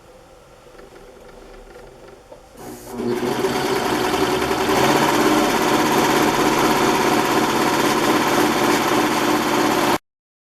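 A serger sews the long straight seams of petticoat skirt pieces, its steady, loud motor hum kicking in after a couple of quiet seconds and running continuously until it cuts off abruptly.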